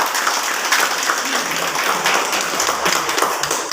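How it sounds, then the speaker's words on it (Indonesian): Audience applause at a cooking competition judging event: a dense, steady round of clapping from many people, moderately loud and continuous throughout, with no speech on top. "Dan kita beri tepuk tangan."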